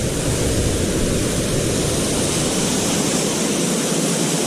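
A waterfall pours into a muddy sinkhole at Whiteoak Sinks, a loud steady broadband roar of falling water close by, unbroken for the whole stretch with no talking.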